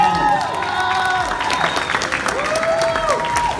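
Clapping fills a room, dense and continuous for a few seconds, with a few voices calling out and whooping over it.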